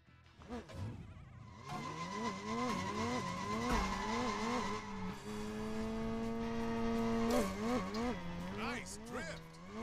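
Tires squeal in long, wavering whines as a car drifts around a corner in the LEGO 2K Drive video game, the engine revving underneath and a voice talking over the skid.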